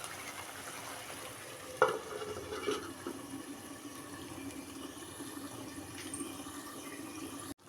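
Pabda fish curry with mustard paste simmers in a pan, giving a low steady bubbling and hiss throughout, with a brief sharp clink near the start and a faint knock shortly after.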